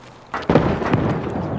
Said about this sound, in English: Oh, I hear explosion.